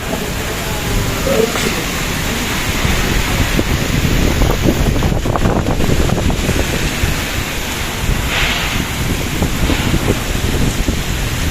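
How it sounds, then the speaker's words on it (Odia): Strong gusting wind of a Kalbaisakhi storm roars loudly and continuously, buffeting the microphone, with a rain-like rushing hiss and no clear voices. "ପବନ ଟିକେ ଟିକେ କମି ଆସିଲାଣି।"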